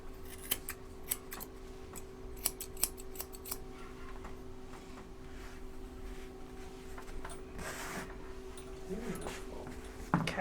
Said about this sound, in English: And that's how you get the bevel.